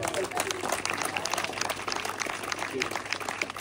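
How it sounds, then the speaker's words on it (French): Applause from the audience at a community gathering for a cultural community house project in France, a dense patter of clapping filling the moment at moderate level with voices mixed in. "on peut les applaudir"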